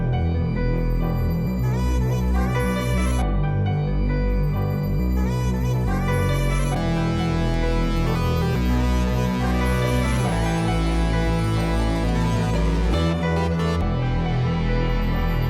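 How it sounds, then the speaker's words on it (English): Two layered synth lead patterns play in a sampled beat loop, one line dry and a second entering near the end of the loop with heavy reverb, over a steady full mix with bass and drums. "Next up, I actually grabbed this lead synth, and I actually used it twice."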